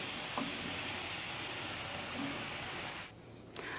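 Homemade crispy potato french fries frying in hot oil, a soft continuous sizzle at low level that cuts out near the end, followed by a brief clink.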